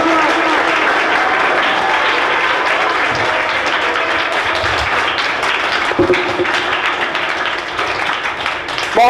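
Sustained, loud applause fills a school hall as a student comes up for a certificate at a high school special program, a dense, even patter of many hands that rises slightly near the end.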